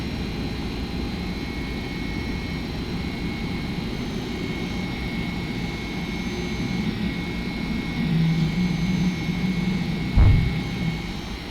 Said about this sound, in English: I'm being deafened by those engines